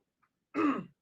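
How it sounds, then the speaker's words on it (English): A single brief, gruff throat clearing close up, preceded by a tiny faint click in near silence. "I was trying to clear my throat"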